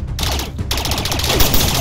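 Short stretch of dense, loud automatic gunfire in the video game Rec Room, one brief gap breaking the steady rattle.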